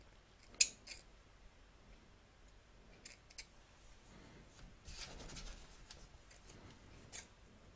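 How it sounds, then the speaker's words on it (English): Scissors trim a raw fabric edge close to a stitch line on a sewing project, making quiet, close snips and rustles in irregular bursts, with one sharper cut near the start. "So you want to cut close to the stitch line without cutting any stitches."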